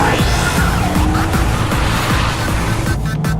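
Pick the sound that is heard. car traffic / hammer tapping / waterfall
car traffic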